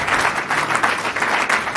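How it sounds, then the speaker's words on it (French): A church congregation at a prayer service claps together, producing a dense, steady wash of many hands clapping throughout, fairly loud and slightly distant, with no talk over it. "Let's clap for the Lord."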